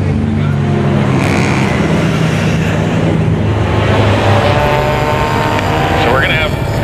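Closed-wheel race cars roar around the Mission Raceway track in a steady, loud, continuous engine drone with shifting pitch as a pack heads into a turn, a commentator talking over it.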